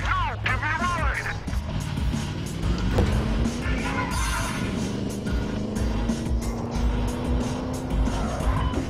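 In the Battlefield Hardline video game, a car engine roars loudly with rising revs while tires squeal and skid, steady and close throughout the clip.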